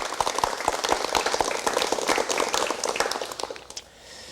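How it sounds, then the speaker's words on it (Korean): A studio audience at a 1989 KBS television talk show breaks into dense, crackling applause welcoming a guest, sustained for several seconds before tapering off near the end. "여러분 박수로 맞이해 주시면 대단히 고맙겠습니다."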